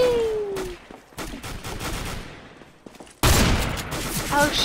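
Gunfire in CS:GO, including shotguns: repeated sharp shots crack out in irregular bursts, and a dense, loud volley starts abruptly near the end, heard close with no talk over it.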